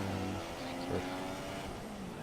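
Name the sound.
Ferrari and Toro Rosso race cars passing, from a racing video game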